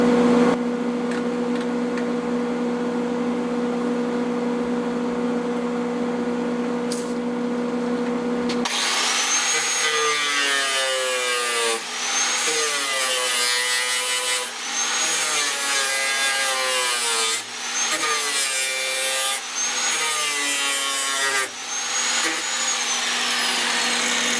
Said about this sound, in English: Grind this extra piece of metal off.